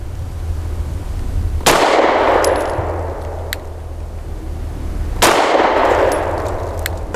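Two sharp pistol shots from a BUL Armory Axe C Tomahawk ring out about three seconds apart outdoors, each followed by a bright metallic clang of the bullet striking a steel target and a lingering reverberant decay.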